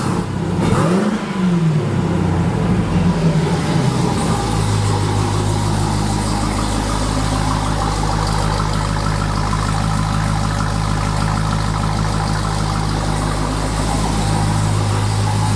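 A Jeep Trackhawk engine running without catalytic converters, with one quick rev that settles into a loud, deep, steady idle rumble close to the microphone, with no talking.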